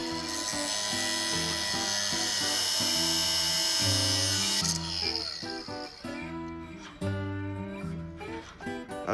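A power tool whines loudly while cutting half an inch off metal rods in a garage during a 1971 Chevy Suburban build, a steady high grinding that drops off midway into rattling mechanical clatter and shifting motor tones.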